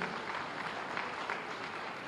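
Crowd at an outdoor Uttar Pradesh Day 2021 award ceremony in Lucknow gives steady, continuous applause, a dense wash of many hands clapping with no pauses.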